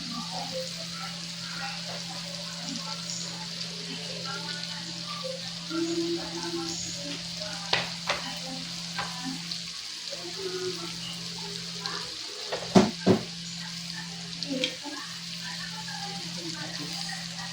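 Buttered garlic tilapia fries in a pan, giving a steady, even sizzle throughout, with a few soft clinks and scrapes of stirring near the end and no voice over it.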